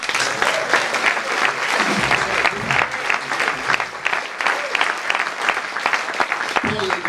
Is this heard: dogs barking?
no